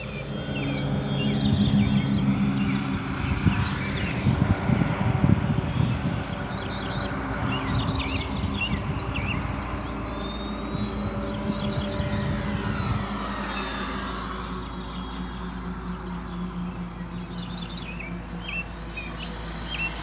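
F4U-4 Corsair radio-controlled model plane, a 1.1 m scale model on its maiden flight, its engine droning loud and steady as it flies overhead, with birds chirping in the background and no talking.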